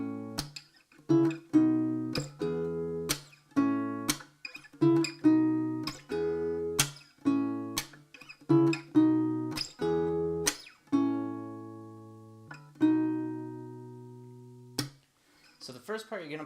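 Acoustic guitar plays the hook of a song, a repeating sequence of plucked single notes and short chord strums, close and clear, in a steady rhythm with ringing sustain, ending on a few softer notes.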